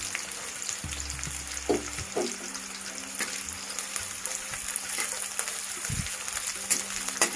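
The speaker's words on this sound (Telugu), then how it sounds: "నెక్స్ట్ ఆనియన్ వేసుకుందాం. నెక్స్ట్ పచ్చిమిర్చి వేసుకుందాం." Chopped onion and green chilies sizzle steadily in hot oil in a home kitchen pan, a continuous close frying hiss with occasional stirring scrapes and soft knocks.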